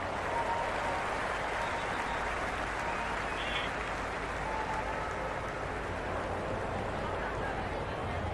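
Cricket crowd at the ground in the Cricket 26 video game, Australia versus England T10 match: a dense, steady wash of applause and crowd noise holds at the same level throughout, with faint murmuring in it.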